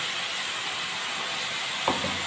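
Ginger, garlic and green chilli paste sizzles in frying onions as a steady, loud hiss that fills the whole stretch, with a brief soft knock near the end.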